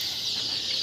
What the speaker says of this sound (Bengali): দেখেন বাচ্চাগুলো 31 দিনের বাচ্চা, কিন্তু দেশি মুরগি